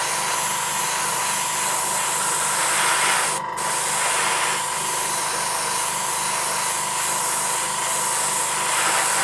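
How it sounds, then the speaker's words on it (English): A steady, loud hiss of candy paint spraying onto a model runs almost without pause, breaking for a moment midway before continuing, with a faint constant hum underneath. "as you spray, the more layers you put on, the deeper the colour you build"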